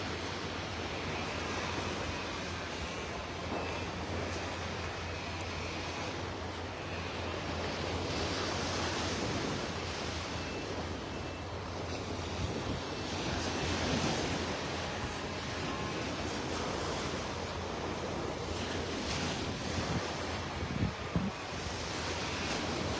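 Gulf surf breaks on a North Naples, Florida beach, rolling in continuous swells with wind buffeting the microphone and a brief knock near the end.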